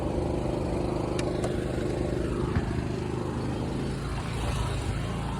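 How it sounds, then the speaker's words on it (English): A truck engine idles steadily, with the loose rattle of a driver's side exhaust on a worn-out bushing; the drone is continuous and close throughout, with a few brief clanks. "my bushing right here for my driver's side exhaust now is worn out, so there's a lot of rattle."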